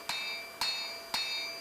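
Three evenly spaced ringing hammer blows strike a steel parang blade on an anvil while the bevels are forged, each hit bright and metallic with a lingering ring, close and loud.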